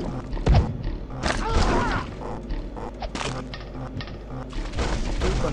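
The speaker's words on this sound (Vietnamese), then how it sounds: "vì đạn của nó là đạn nổ công phá rất lớn." Explosive cannon shells fire in a pirate shooting video game, a string of cracks and thuds with booming impacts scattered across the clip, mixed with busy game effects and a voice talking over it.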